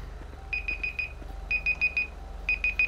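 A timer alarm in a police patrol setting beeps in quick bursts of four high electronic tones, repeated three times over a low background hum.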